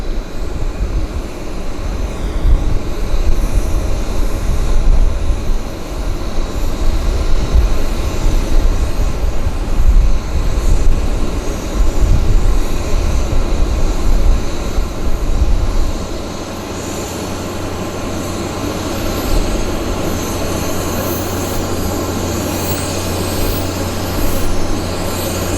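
A fixed-wing aircraft at Vancouver Airport makes a loud, steady engine roar during its takeoff roll. The roar holds for about fifteen seconds, then drops to a lower, smoother drone as it recedes.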